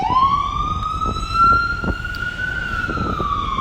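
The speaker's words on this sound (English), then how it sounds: "bear with me as this ambulance passes" A wailing emergency siren holds a steady rising and falling tone, moderately loud, with road noise underneath as it passes.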